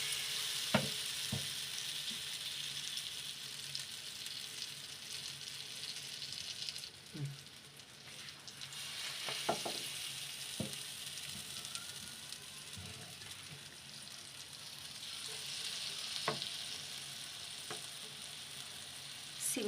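Bread slices dipped in gram flour batter fry on a pan for bread pakora, a steady close sizzle running throughout with occasional crackles and small stirring knocks.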